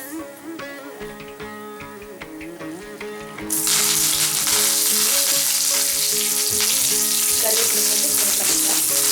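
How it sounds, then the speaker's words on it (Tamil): Kara boondi batter frying in a deep pan of plenty of hot oil for a homemade Diwali snack, a faint clatter first, then a loud, steady, close sizzle that fills the rest of the clip. "நம்ம நிறைய எண்ணெயில் பொரிக்கும் போது"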